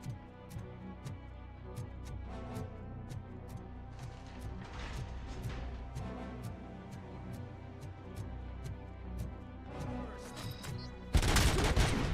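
Rapid turret gunfire in the RoboCop: Rogue City video game, a steady rattle of sharp, evenly spaced shots with a few clustered bursts, ending in a sudden loud blast of noise.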